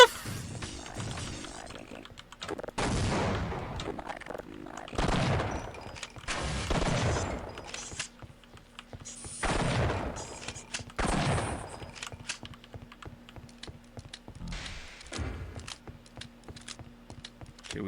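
Grenade blasts and gunfire in Half-Life: Opposing Force, with several loud, broad explosive bursts separated by quieter stretches of scattered shots and a low steady mechanical hum.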